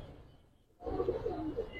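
Giribaz silver, coloring and grizzle pigeons give a soft, low burbling coo that starts abruptly after a short quiet moment and carries on close by.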